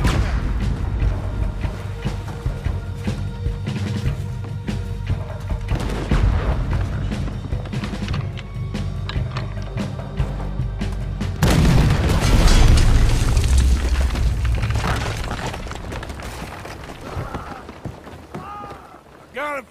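A cannon fires in the game Red Dead Redemption, a heavy boom and rumbling blast cutting in midway through a busy battle scene thick with gunfire and ambient noise.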